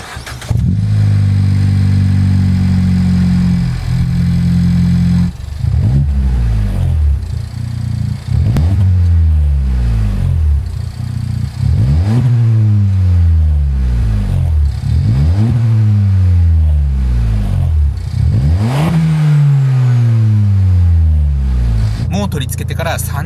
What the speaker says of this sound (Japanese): 皆さんが一番気になるのはマフラーの音だと思いますので